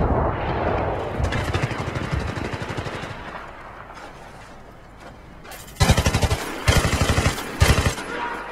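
Battlefield 3 combat on the Noshahr Canals map in team deathmatch: a long rumble of distant explosive fire, then three loud, close, rapid bursts of heavy shots near the end.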